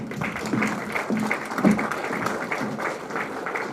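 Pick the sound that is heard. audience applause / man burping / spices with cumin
audience applause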